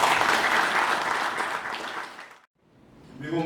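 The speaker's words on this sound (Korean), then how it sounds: "큰 박수로 모시겠습니다." An audience at a Korean book launch celebration claps in thick, sustained applause that fades out abruptly after a couple of seconds, followed by a brief hush and faint rustling.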